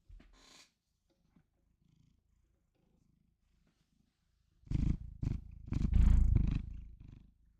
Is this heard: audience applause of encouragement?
no